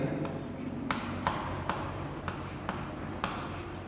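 Pen scratching on paper while filling in a credit purchase entry in a subsidiary account book, with soft scribbling strokes and a few sharper taps over low room noise.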